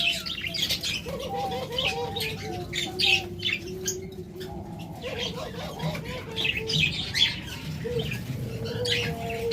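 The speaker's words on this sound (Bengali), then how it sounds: "আমাদের কাছে হিউজ পরিমাণ জাবা পাখি রয়েছে" Java sparrows at a bird shop chirp and twitter in a dense, steady chorus, with occasional wing flaps and squawks close by.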